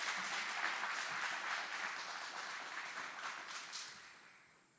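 Applause from the audience at an Army graduation ceremony, a dense, steady spread of clapping that slowly fades toward the end, heard alone.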